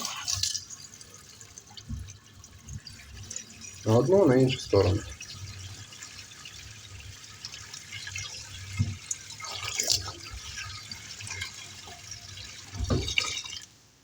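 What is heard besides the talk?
water running from a faucet after a mixer cartridge replacement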